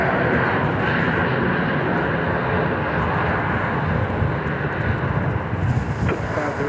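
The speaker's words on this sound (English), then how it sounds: "there is a Southwest 737, which kind of snuck in on us here on the east side of the aeropuerto" A Southwest Boeing 737 airliner at Dallas Love Field makes a continuous, loud, rumbling engine roar mixed with some wind noise on the microphone.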